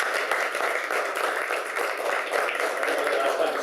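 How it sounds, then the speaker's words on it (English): Dense, steady applause from a community meeting audience honoring a grant team, sustained and fairly close throughout with no pauses. "let's give them a round of applause"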